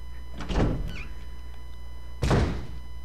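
Two heavy door thunks sound a couple of seconds apart in the PS3 remaster of Resident Evil, each a solid mechanical clunk. Between them the room holds only a low ambient hum.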